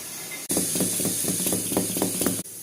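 Fermented set dosa batter, with turmeric, a little sugar and soda added, is beaten vigorously by hand in a bowl: close, steady, rhythmic slapping and swishing strokes for about two seconds, with no talk.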